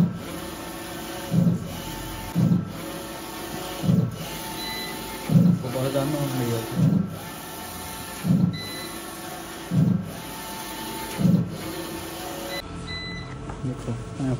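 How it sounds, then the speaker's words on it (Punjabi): A photo printer printing a 6x4 photo: rhythmic mechanical strokes recur about every one and a half seconds, close and moderately loud, with a brief busier whirring stretch in the middle. "ਇਹ 6x4 ਦੀ ਹੋਊਗੀ ਇਹ ਦੇਖ ਲਾ ਤਿੰਨ ਤੋਂ ਆਪਣੀ ਫੋਟੋ ਪ੍ਰਿੰਟ ਹੋ ਜਾਂਦੀ ਦੇਖ"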